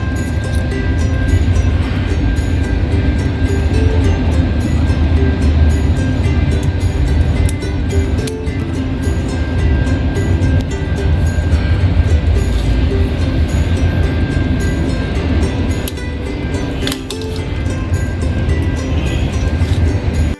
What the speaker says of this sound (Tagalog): Mahabang tren yan.